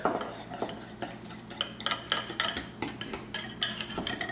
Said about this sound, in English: So add the 2 tablespoons to the vinaigrette. Give that a nice stir.